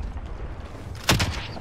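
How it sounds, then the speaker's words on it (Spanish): Gunfire in a battle royale video game: a single burst of shots to the right near the end, sharp and moderately loud over a low in-game ambient rumble, with no talk. "Aquí a la derecha escuché tiros"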